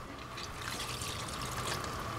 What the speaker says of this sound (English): And first throw in 1 cup of water.